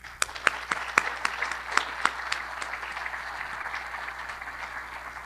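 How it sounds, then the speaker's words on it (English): An audience at a Rotary club meeting applauds in a steady round of clapping, loud and close at first, then settling into an even patter that carries on alone. "Please join me in a round of applause to honor all of you."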